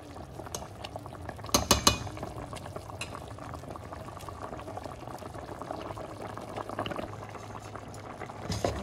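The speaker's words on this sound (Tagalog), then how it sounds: "Simmer lang natin ng mga 1 minute ulit para maluto yung ating malunggay" A pot of kingfish with tomatoes and malunggay leaves simmering, a steady close bubbling that carries on throughout, with a couple of brief metallic clinks near the start and no talking.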